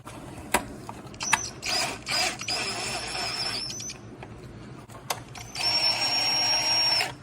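A power driver tightens screws while LED halo headlights and fog lights are installed on a Jeep Wrangler, with several short whirring bursts and a longer steady run near the end, close and loud, with brief clicks between.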